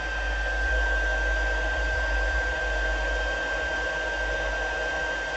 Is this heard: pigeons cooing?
no